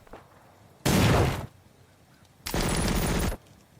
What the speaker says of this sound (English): The machine gun claims one of the AT crew.